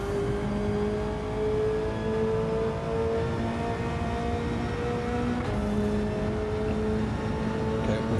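Car engine in the Gran Turismo 7 racing game holding a steady high drone with a sustained whine, then a quick shift just past midway before the tone settles again, loud and continuous.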